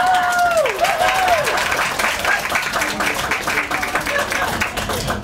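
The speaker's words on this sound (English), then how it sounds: "That's why you clap." An audience claps steadily at a campaign event for a state senate candidate, a full and continuous patter with a brief voice or whistle-like tone near the start.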